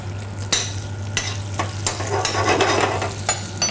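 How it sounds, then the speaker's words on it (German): Sage leaves sizzling and frying in hot butter in a pan, a steady crackling hiss with repeated sharp spatters and stirring scrapes, close and loud with no talk. "Lege den Salbei in die Butter."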